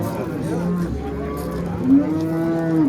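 A cow lows at a busy livestock market, a long, rising moo swelling in the second half, heard close against steady crowd murmur and background chatter.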